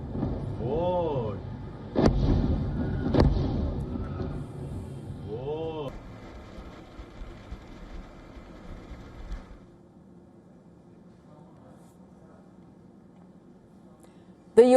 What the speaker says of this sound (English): This video that surfaced from social media showed explosions in Iran's major port city of Bandar Abbas.